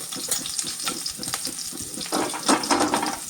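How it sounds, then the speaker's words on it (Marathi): Cumin seeds, green chili and asafoetida tempering in hot ghee for a Maharashtrian kadhi produce a busy crackling sizzle with scattered pops and stirring scrapes that grow louder toward the end. "मला साजूक तूप, जिरं आणि हिंगाचीच फोडणी फार आवडते"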